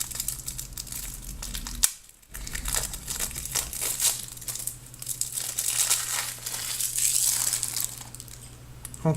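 Packaging of a legendary collector's box being opened: steady crinkling and crumpling of plastic and cardboard up close, with a brief dropout near the start and scattered sharper tearing sounds.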